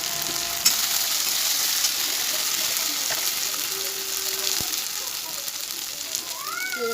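Garlic paste and turmeric fry in a pan with a steady, close sizzle and occasional light utensil taps, and a brief muffled voice-like sound near the end.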